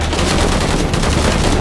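Loud, dense burst of automatic gunfire in the video game Shadow of the Tomb Raider, rapid overlapping shots with no gaps, close and harsh throughout.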